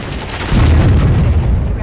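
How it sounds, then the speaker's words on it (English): Heavy cannon fire in the strategy game Warzone 2100, a loud low boom at about half a second followed by a sustained rumbling roar that lingers to the end. "there is this rather obnoxious thing here, which is quite a heavy cannon"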